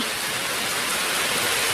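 Rain falling around a house by the sea, a steady soft hiss of drops on surfaces that stays even and unbroken throughout, with no voices over it.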